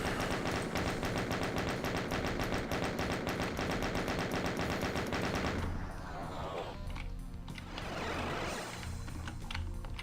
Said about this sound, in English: Chain gun the spider.